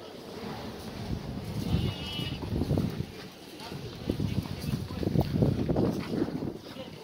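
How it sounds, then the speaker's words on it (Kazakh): Sheep and goats bleat at a livestock bazaar, scattered calls rising over crowd noise and wind, with people talking nearby throughout. "Алғашқы қойлар, ешкілер."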